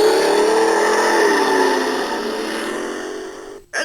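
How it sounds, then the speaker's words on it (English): A racing car engine revs loudly in a startup sound effect from a game played on an Xperia Play handset, a sustained buzzing roar that slowly drops in pitch, then cuts off abruptly near the end. "Gentlemen, start your engine."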